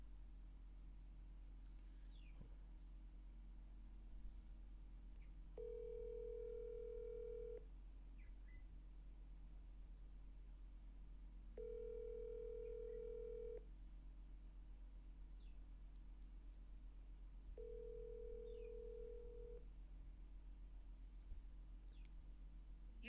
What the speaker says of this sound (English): Let me see if Jazz pick up the phone